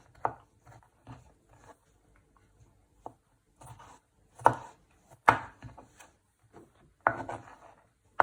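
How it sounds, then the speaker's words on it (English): A knife slices garlic into small pieces on a cutting board, giving irregular sharp chops and taps, some close and loud, with quiet gaps between strokes and no talk. "and then finally slice it. Into little pieces."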